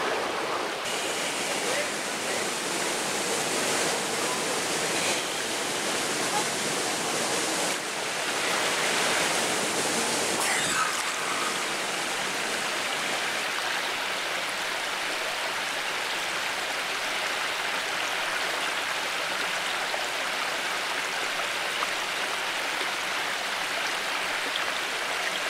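Water in a natural stream at Pozas Azules near Taxco rushes and splashes in a steady, close, broadband wash that continues unbroken for the whole stretch.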